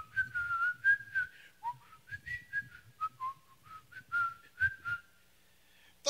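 A person whistles a melodic tune, a string of clear, sustained notes with short pauses between phrases, close by and alone.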